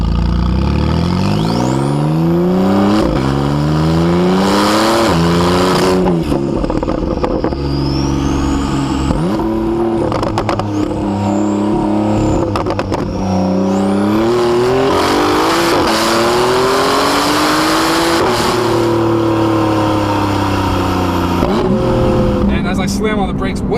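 A Porsche 911 991.2 Carrera 4S with factory sport exhaust and Fab Speed bypass pipes revs hard and close, climbing through repeated loud sweeps and drops, with speech mixed in.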